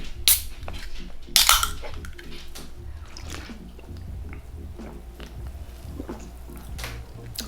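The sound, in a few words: opening a winter palm berry flavored drink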